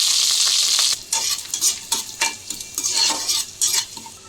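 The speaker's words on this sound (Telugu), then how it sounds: "నెయ్యి వేడెక్కాక ఇప్పుడైతే స్పైసెస్ వేసుకుందాము." Cumin, cardamom, cloves, peppercorns and cinnamon stick stirred in hot ghee, a bright crackling sizzle broken by repeated scraping strokes of a spoon against the pan, close up and without speech.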